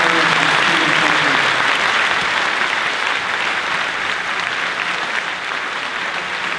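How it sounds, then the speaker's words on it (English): Sustained, dense applause from an audience at the close of an evening talk by Steven Pinker and Michael Shermer in Montreal, steady and full throughout with no voices over it. "Please give a huge round of applause to Michael Shermer and Stephen Pinker."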